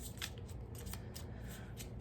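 Oracle cards being shuffled by hand, a steady run of soft papery riffles and flicks repeating across the whole stretch, close and fairly quiet, with no talking.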